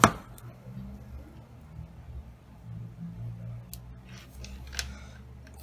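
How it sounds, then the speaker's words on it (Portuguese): Scissors snip through cord for a choker necklace close up, a sharp cut at the start followed by quiet handling rustles and a few light clicking snips later on, no talking. "Vou cortar um pedacinho aqui também"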